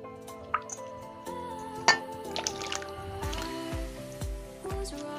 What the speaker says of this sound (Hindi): तो ये पानी बॉईल हो चुकी है, अब इसमें मैं डालूँगी टोमेटो।